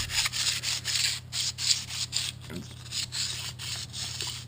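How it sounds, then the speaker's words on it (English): Sandpaper rubbing by hand on a 1975 Corvette wheel, a steady rhythmic back-and-forth scratching, close and moderately quiet over a low constant hum. "I'm going to work on this wheel. I'm going to use this sandpaper."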